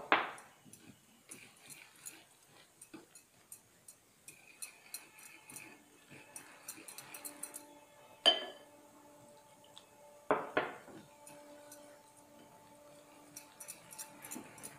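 Utensils clink and tick against a bowl as vanilla cupcake batter is mixed with milk, with light taps in an irregular rhythm, some sharper knocks, and a voice speaking softly at times.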